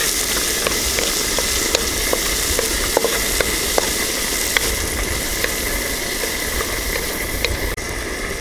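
Steady sizzling of onions frying in oil in a pan, with occasional light clicks and scrapes of stirring throughout.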